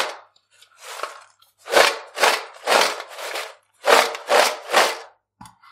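Homemade crispy potato chips are tossed with masala spices, giving seven or so rhythmic bursts of dry crunchy rattling, loud and close with short pauses between them and no voices.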